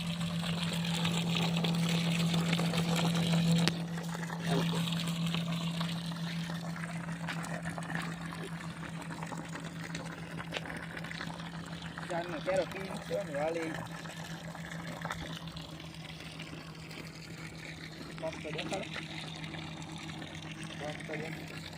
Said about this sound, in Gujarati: હવે આ પંપની બેટરી હારે સડાવ્યું તા પાણી વધ્યું.